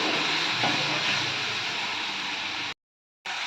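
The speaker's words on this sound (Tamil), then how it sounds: "இந்த மாதிரி வதக்குனீங்கன்னா தக்காளி வேகமாக வதங்கிடும்" Finely chopped tomato with a pinch of salt sautéing in a pan, a steady close hiss and sizzle running continuously before cutting out briefly near the end.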